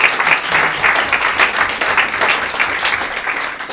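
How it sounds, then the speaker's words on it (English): Loud, close applause from an audience at the Bring Your Limericks to Limerick Final 2019, an international competition. Dense rapid clapping from many hands rolls on steadily and eases slightly toward the end. "could I have a huge round of applause for Dolan,"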